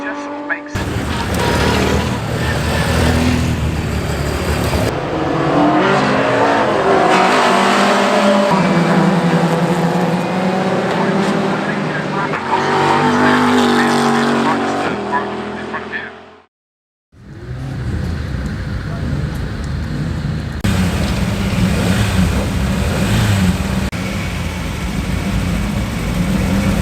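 Loud, continuous roar of classic sports racing car engines passing on the track at Oulton Park, with a sudden brief dropout midway before the engine noise resumes.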